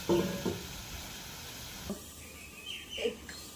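Crab fries in a pan with a soft sizzle hissing quietly, broken by a few clinks and stirring scrapes.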